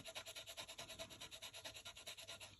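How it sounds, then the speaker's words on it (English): A Tombow Mono Sand Eraser rubs back and forth on paper, giving a faint, close, rhythmic scratchy swish of about twenty quick even strokes. "I'm using Tombow Mono Sand Eraser."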